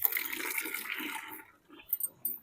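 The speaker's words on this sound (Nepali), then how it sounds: "फुलमा पनि पानी लगाउँछु किनभने फुलमा पानी लगाएन भने फेरि फुलहरू मर्छ" Water poured over flowers outdoors at night, a faint splashing gush that trails off, followed by a couple of soft splashes.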